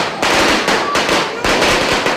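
Firecrackers set off at New Year in the Philippines crackle in dense, loud bursts, a rapid string of pops split into three or four close surges, with a reporter talking over them.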